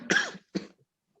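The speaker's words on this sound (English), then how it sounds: "Wear mask because I cough." Two short coughs close to the microphone, the first louder and the second a quick follow-up, then silence.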